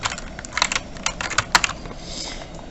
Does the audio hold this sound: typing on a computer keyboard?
yes